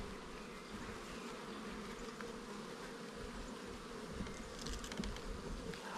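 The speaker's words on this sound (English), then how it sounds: "Got bees." Dense, steady buzzing of many bees swarming around an opened hive during a spring inspection, a continuous droning hum with no voices.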